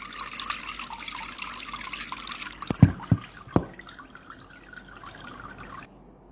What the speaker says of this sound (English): There is so much water being distilled out.